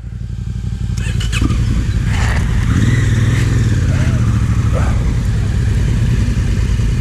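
A motorcycle rides along with a loud, steady engine drone close by and a rising rev partway through, while faint voices come through over it.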